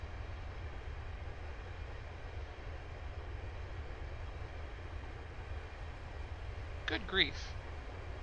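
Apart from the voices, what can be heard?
long train passing, video game Train Simulator 2015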